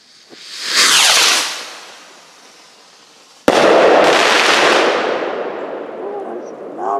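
Two loud Fourth of July fireworks blasts go off outdoors on a cold night, the first swelling and fading, the second a sudden sharp boom with a long crackling, rumbling tail, no talk over them.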